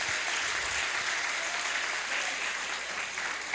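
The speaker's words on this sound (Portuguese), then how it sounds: "Você pode aplaudir a Jesus pelo pastor Daniel" Steady, dense applause from a church congregation at an anniversary service, filling the whole stretch evenly and loudly with no talk on top.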